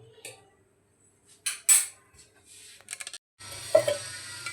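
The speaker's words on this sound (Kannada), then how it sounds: "ಇದು ಈಗ ಒಂದು ಕಡಾಯಿ ತಗೋತೀನಿ." A metal kadai, an Indian wok, is handled in a home kitchen with clattering bumps and scrapes in short bursts, followed by a longer stretch of clanking and rattling near the end, close by.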